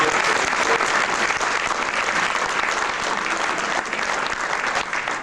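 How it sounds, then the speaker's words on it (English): Steady, dense applause from an indoor audience, loud and continuous throughout with no pause or talk over it. "So I would really like this, a round of applause for Mr. Heckard."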